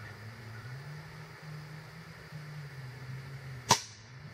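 A Cobra C3000 pistol crossbow fires once with a single sharp, close snap that cuts through a quiet, low background hum.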